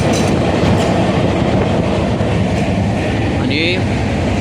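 Passenger train travelling at night, heard from inside a crowded carriage: a loud, steady rumble with rhythmic wheel clatter and occasional squeals, with voices mixed in.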